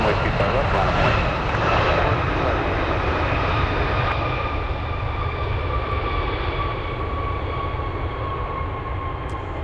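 A jet aircraft roars steadily down a runway at Anchorage on takeoff, a loud continuous engine rumble with a high whine that slowly fades.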